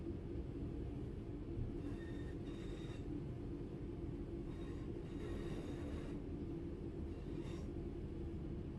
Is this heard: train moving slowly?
yes